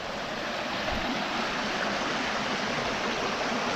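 A steady rush of flowing water, like a stream or small waterfall, continuous and broadband with no voices.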